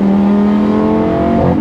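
A Lamborghini Gallardo engine in Corsa mode holds a loud, close, steady high-revving tone, with a quick shift near the end changing the pitch.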